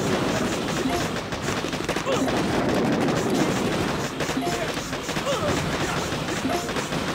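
Riflemen firing their guns in the mobile strategy game Boom Beach, a dense, continuous crackle of rapid gunfire and small explosions that stays loud and steady throughout, with no talk.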